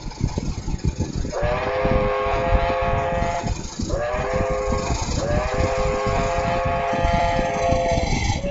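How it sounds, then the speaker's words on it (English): A special train runs past a siding south of Williamstown, a continuous rumble under repeated long tonal horn or whistle blasts. "it doesn't have long to wait before the Special comes running on by"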